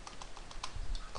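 Quiet, quick keystrokes on a computer keyboard while Java code is typed, a light irregular run of clicks with no voices.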